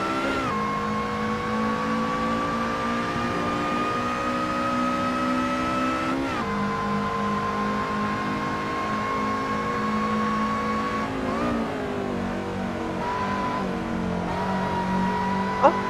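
Race car engines in Assetto Corsa hold a steady, droning whine that climbs in pitch as they accelerate, drops sharply at a gear change or corner exit, then builds again, with a faint second car underneath.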